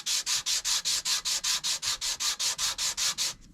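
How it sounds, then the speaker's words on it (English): Maple wood blocks are rubbed back and forth on 120 grit sandpaper to flatten them, about sixteen even, rhythmic rasping strokes, close and steady with no talk. "I'm just putting some regular old 120 grit sandpaper on that surface"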